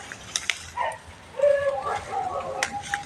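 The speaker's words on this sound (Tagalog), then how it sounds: "kanina pa po kami tinatahulan ng aso" A dog barks and yips a few times at fairly close range, with short, sharp calls spread across a few seconds. People talk over it, and there is soft outdoor background noise.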